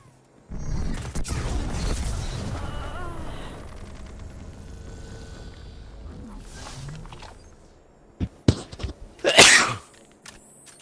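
A sharp, loud sneeze bursts out near the end after a stretch of muffled game noise and scuffling, a single explosive burst during an online PvP shooter match.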